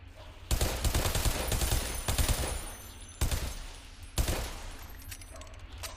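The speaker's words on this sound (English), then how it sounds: "that guy's shooting at something" An enemy fires bursts of rapid gunfire in the shooter game Bodycount, several loud volleys of automatic fire separated by brief pauses, with no talking.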